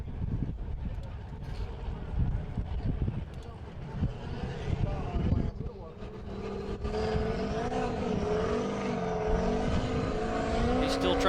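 A race vehicle at the Holley EFI Shootout throttles through trouble, its engine droning and rising into a sustained, strained rev toward the end, heard beneath ongoing commentary.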